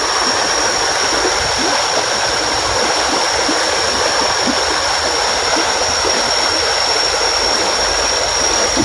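Steady rushing flow of a jungle river stream, a loud, unbroken broadband wash of water that stays even throughout, with no voices over it.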